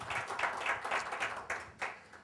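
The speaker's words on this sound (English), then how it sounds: "How about a round of applause for that?" Audience applause at a keynote address to an educators' gathering, a brief burst of scattered clapping at moderate level with uneven rhythm, fading slightly toward the end.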